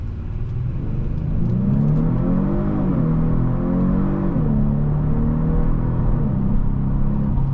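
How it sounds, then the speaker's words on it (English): Synthetic engine sound piped into the cabin of a 2026 Genesis G70 Sport Prestige sedan as it accelerates, rising in pitch and dropping back at each paddle shift, steady and loud inside the car with no talk. "That's fake engine noise getting pumped in, but I don't care. It sounds great."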